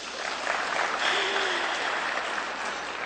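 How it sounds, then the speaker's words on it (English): Audience applause from a crowd at a productivity talk, steady clapping that swells and holds across the whole stretch, fairly close and fairly loud, with no talking over it. "Clap your hands."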